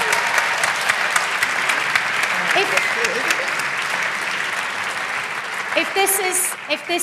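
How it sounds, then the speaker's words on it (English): An audience applauds at a university chancellor installation ceremony, sustained close clapping from a large hall that runs steadily for several seconds, with a few voices and cheers surfacing near the end. "Can we have a round of applause for the three of them,"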